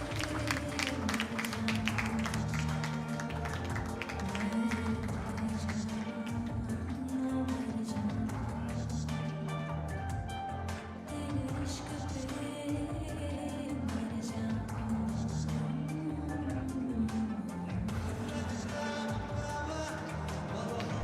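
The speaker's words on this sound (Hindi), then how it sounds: "तालियां बजती रहेंगी सभी के लिए." A crowd at a reunion event for joint replacement patients claps continuously over music, with scattered hand claps close by and steady background noise throughout.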